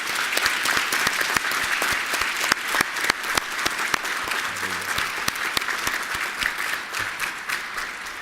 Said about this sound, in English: let's have one more round of applause for all our servicemen and women